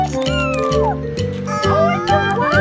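A small white kitten meows several times in quick succession, close and clear over a backdrop of rhythmic music.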